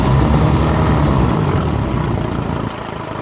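A 1959 Evinrude Fastwin 18 hp outboard motor runs on a lake, a loud steady droning idle close by that eases slightly in level toward the end, with no talking.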